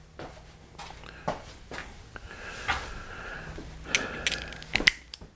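A ratchet with an 8mm socket tightens valve cover bolts on a 2008 Pontiac Grand Prix GXP, making a few short clicking bursts with quiet handling noises in between, heard close and alone.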